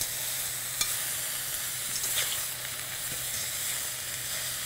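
Vegetable stir fry sizzles steadily in a hot pan, a dense continuous frying hiss with a few faint clicks of stirring, fairly loud and alone with no talk.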